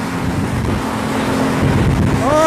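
Strong storm wind roars and buffets the microphone in a loud, steady broadband rumble for the whole stretch, with a thin whistling tone rising near the end and no talking.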